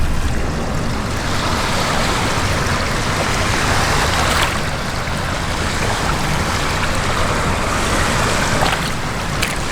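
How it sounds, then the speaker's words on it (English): Mudlarking find being rinsed in River Thames water at the foreshore, with steady close splashing and sloshing under a broad wash of lapping water and wind noise, no speech. "Let's give it a little rinse."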